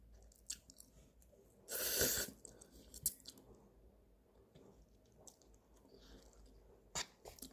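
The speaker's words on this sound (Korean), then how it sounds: "늦은 점심이고 라면 먹습니다." Someone eats ramen as a late lunch at home: soft, close chewing and slurping with scattered clicks, one louder burst of slurping noodles, all quiet with no talk.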